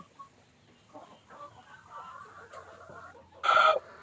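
Elba laying hens cluck softly and intermittently through the stretch, ending in one louder, sharper squawk near the close.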